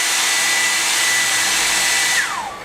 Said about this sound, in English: Now that noise you could hear was the hairdryer